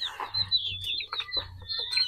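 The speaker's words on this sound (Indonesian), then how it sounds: "Nah, ini ayam saya" Several chickens cluck and chirp close by in a short, busy burst of overlapping calls over a low background rumble, in a farmyard where a molasses-moistened feed mix is being given to the birds.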